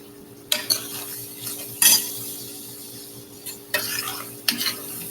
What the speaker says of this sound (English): I'm going to add this to the oil and cook it a little bit before I add the other ingredients